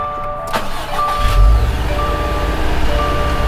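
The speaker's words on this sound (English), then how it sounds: "First startup of the day." A manual-transmission import car with a six-speed gearbox starts up for the first time that day: a chime and cranking, then the engine catches into a loud, steady idle with a warning tone beeping close by.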